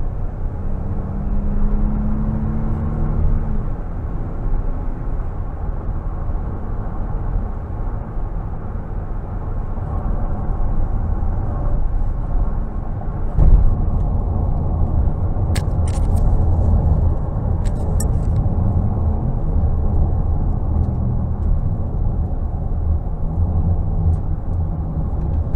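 The 2011 Toyota Sienna XLE minivan, with a V6 at 180k miles, pulls under throttle from inside the cabin, a steady low engine drone mixed with road and wind noise and a faint rise in pitch partway through.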